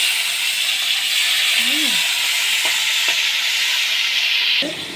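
Pointed gourd and prawns frying in hot oil give a loud, continuous close hiss and sizzle, with a few faint clicks and a brief spoon scrape, fading slightly at the end; no voices.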